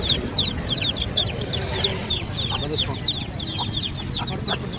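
Chickens at a rural poultry market in Ahmedpur cluck and squawk repeatedly nearby, with a busy murmur of people talking underneath.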